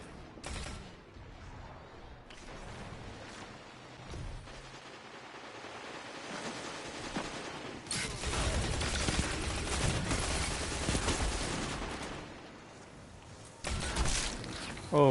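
Gunfire in the Destiny 2 Supremacy mode, with a loud sharp shot burst around the middle and another near the end over continuous game noise and scattered fire.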